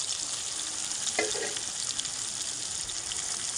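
Chopped tomato frying in oil with bay leaf, whole garam masala, cardamom and chopped onion, a continuous close hiss with a short stirring scrape near the middle, no voices.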